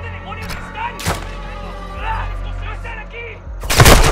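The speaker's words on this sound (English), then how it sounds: "That gunfire alerted them." Sharp gunshots crack out in Call of Duty: Modern Warfare II, a couple of bursts at the start and a louder volley at the end, over a low ambient hum and faint voices.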